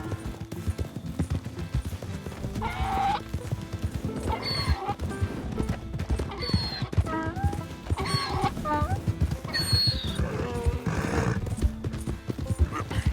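In Red Dead Redemption 2, a horse's hooves clop rhythmically at a gallop, close and loud, with whinnies and game sounds mixed in throughout.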